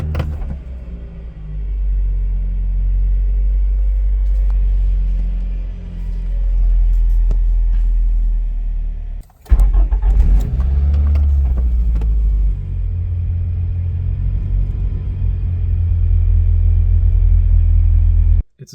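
A car engine starts for the first time after a custom engine mount and resonator install, then settles into a loud, steady low idle rumble with a brief cut partway through before the idle resumes.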